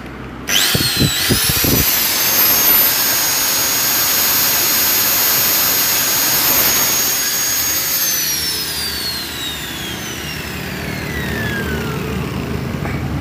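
A motorcycle part is worked with an angle grinder: a few sharp knocks, then a loud high-pitched whine that holds steady and winds down gradually as the disc spins to a stop, close by.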